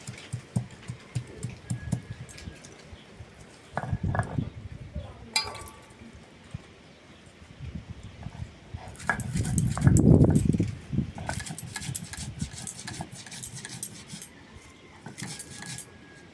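Spices for a pumpkin and prawn curry are ground on a grinding stone: close, uneven scraping and knocking strokes with occasional clinks of utensils and plates, a louder stretch of grinding in the middle, and a voice talking at times.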